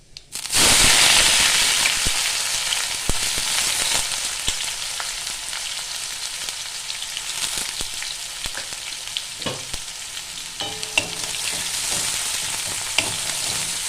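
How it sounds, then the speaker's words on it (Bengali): Chopped onion sizzles loudly in hot oil with panch phoron after a sudden start, a steady crackling hiss with scattered pops and stirring scrapes. "এটা একটু ভাজা ভাজা করে নেব"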